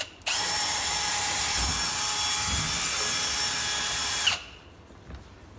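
A power drill spins 8mm SnapLok chimney sweeping rods with a whip through a Contura stove and twinwall liner, a loud steady whine running unbroken for about four seconds before cutting off abruptly.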